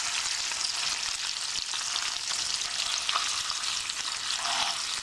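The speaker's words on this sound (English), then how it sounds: "With bacon in the cast iron pan first, cooking away. Add the burger in the bacon fat." A burger frying in bacon fat in a cast iron pan gives a dense, even crackling sizzle, close and steady throughout with no talking.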